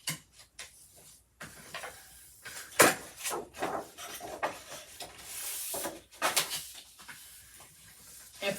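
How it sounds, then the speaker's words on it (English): Paper card being folded and burnished along scored lines to form an envelope, with soft irregular rubbing, creasing and light tapping sounds, close and fairly quiet, without speech. "We're going to fold and burnish on those scores."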